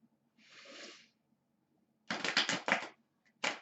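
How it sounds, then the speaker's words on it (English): A soft papery hiss, then a pause, then close rapid fluttering bursts of a deck of cards being shuffled, ending with one short riffle. "You can probably hear them being shuffled."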